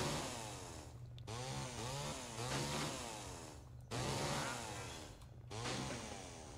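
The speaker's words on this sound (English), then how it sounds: "It would have been more wiser to do that before I got the chainsaw in my hand." A video game chainsaw runs loudly and continuously, its engine buzz rising and falling in revving waves, with brief cut-outs between bursts and no talking.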